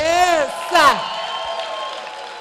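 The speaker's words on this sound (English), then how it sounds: "please give him a round of applause like you really mean it" An audience at a youth awards gathering whoops and cheers with loud, rising shouts of individual voices, a couple of bursts followed by a fading hum of crowd noise.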